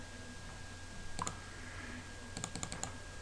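A computer mouse clicks a few times, sharp and close, at the desk during text formatting in Word: one quick click early on, then a fast cluster of clicks near the end, over a faint steady hum.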